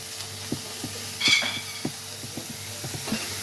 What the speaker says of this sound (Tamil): நம்ம இது கூட வந்து தக்காளி சேர்த்துப்போம், டொமேட்டோ